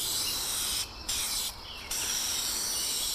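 Spray gun applying finish onto a scrap-wood 2x4 table board, a steady faint airy hiss interrupted by two short pauses, with no voices.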